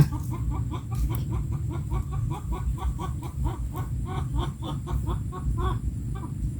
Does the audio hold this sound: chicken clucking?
yes